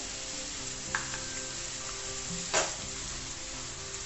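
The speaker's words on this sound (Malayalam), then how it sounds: "വീണ്ടും അതൊന്ന് അതിൻ്റെ പച്ചച്ചുവ മാറുന്നിടം വരെ വഴറ്റുക" Garlic-ginger paste sautéing with chopped raw banana stem for pickle, a soft steady sizzle with a couple of faint spoon clinks and scrapes, low and even throughout.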